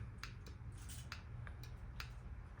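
A vintage Faraday fire alarm system clicks away with sharp, irregular ticks, about seven or eight spread over a few seconds, over a steady low hum.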